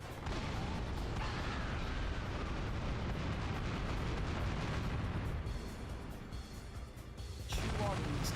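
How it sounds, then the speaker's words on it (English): Cannons fire in the Dynasty Warriors 8 battlefield, with heavy booming blasts rumbling over continuous loud battle noise and clashing effects, briefly easing before a fresh burst of explosions near the end. "Chew on these cannons."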